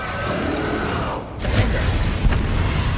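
Bombarda and Confringo spell blasts in Hogwarts Legacy erupt as loud, dense booms, a roaring burst followed by a brief dip and a second heavier explosive impact, with no voices over them.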